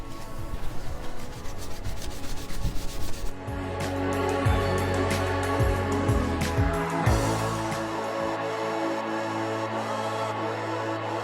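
Sandpaper rubs over a wooden archtop guitar body coated with Danish oil, working up a paste in brisk, close scratchy strokes that turn into a steadier continuous rubbing partway through, with no voices.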